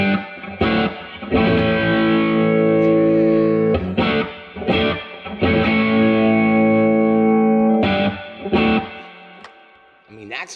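Telecaster played on the bridge pickup with the guitar volume turned up through an amp, giving loud, gritty, overdriven strummed chords that ring out in several sustained bursts with brief breaks between them.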